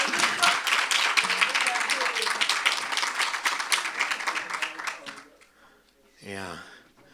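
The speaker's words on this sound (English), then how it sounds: "Can we please give another round of applause?" Round of applause from an audience at a student council investiture ceremony, dense clapping for about five seconds that fades out, followed by a brief spoken voice.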